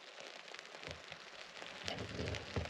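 Rain falling at night outside a bivvy while wild camping in the Scottish Borders, a faint steady patter on the shelter that thickens toward the end.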